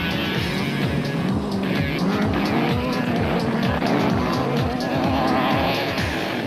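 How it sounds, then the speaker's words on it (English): Rally production cars racing through loose powder snow at the 2008 Nissan Dealers 400, loud roaring engines with rhythmic revving and gear changes, constant and close, with faint tyre and skid noise underneath. "this spot is where the production cars battled in the loose powder, but not Whitehouse and Carlson"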